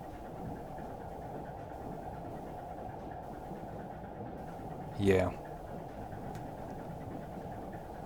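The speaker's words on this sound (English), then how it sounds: "you can hear the deep chugging sound of the freighter's engines" Freighter engines heard underwater in the submarine game Silent Hunter 3: a steady, low, droning throb that runs unbroken throughout, with a brief spoken word partway through.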